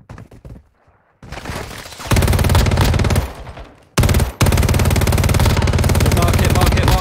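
Loud, sustained automatic gunfire in Warzone Mobile, long rattling bursts broken by a brief pause, close and dominant after a quieter opening.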